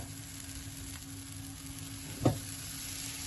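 Pancake batter cooks in a hot pan greased with butter, giving a soft, steady sizzle. One short knock or scrape comes near the end, and no one speaks.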